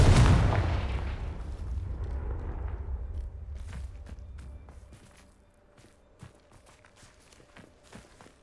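A Confringo spell blasts in Hogwarts Legacy with a loud booming explosion that rumbles and fades over several seconds, followed by quieter scattered footsteps and small impacts.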